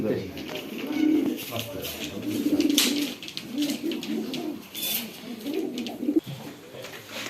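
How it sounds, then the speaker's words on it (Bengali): Racing pigeons coo in low, repeated rolling calls close by, being crated for checking at a pigeon race club tournament, with rustling and people talking in the background. "কবুতরগুলো চেকিং এর জন্য ভরা হচ্ছে"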